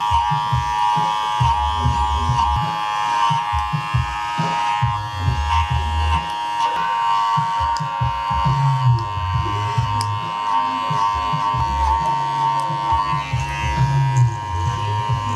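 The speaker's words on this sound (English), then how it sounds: "then we'll use our clipper over comb to blend this in" An electric hair clipper buzzes steadily close by as it cuts hair clipper over comb, its motor tone holding constant while its load shifts in short bursts.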